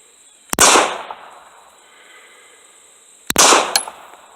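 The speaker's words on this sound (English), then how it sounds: "I'll take a shot. I will exhale. I will take another shot." Two sharp pistol shots fired at a target during breathing-technique practice, about three seconds apart, each a loud close crack with a brief ringing decay, with quiet between them.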